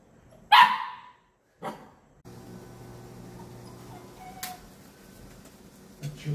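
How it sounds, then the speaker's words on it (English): A black German Shepherd barks once loudly and once more faintly, then a low hum and quiet ticking continue in an indoor space. "That's your black German Shepherd."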